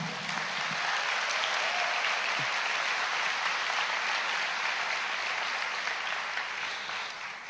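A church congregation applauds in a sustained, dense wash of clapping that holds steady and fades slightly at the end, with no voices standing out.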